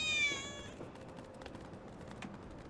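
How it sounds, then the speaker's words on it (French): A cat in Final Fantasy VII Remake lets out a single clear, high meow at the start, followed by quiet game background sounds. "Oh, le petit minou."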